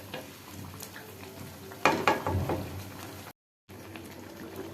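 A pot of dalma, a curry of jackfruit and moong dal made without onion or garlic, cooks on a gas stove with a steady bubbling sizzle. A louder clatter of stirring stands out midway, then the bubbling carries on after a short gap.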